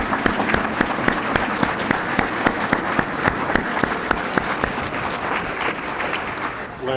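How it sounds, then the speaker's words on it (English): Audience applause for panel speakers at a spring symposium on AI strategy: dense, sustained clapping from a sizeable crowd with a few sharper claps standing out, easing off slightly toward the end. "please join me in a round of applause for our speakers"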